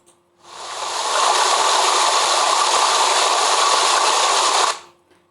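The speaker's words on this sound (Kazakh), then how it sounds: "сарқыраманың дауысы," A waterfall gives a steady, loud, broadband roar of falling water that fades in, holds evenly for about four seconds and then fades out, with nothing else audible.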